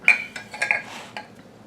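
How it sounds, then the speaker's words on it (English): A utensil stirs cake batter with cocoa in a bowl, giving a few close, irregular scraping clinks against the bowl's side over a quiet background. "Let's mix it up a little bit. Let's put the cocoa in there with it."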